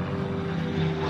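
A Spitfire's piston aero engine drones steadily in flight, a loud continuous propeller-aircraft hum with a strong low tone throughout, heard alone.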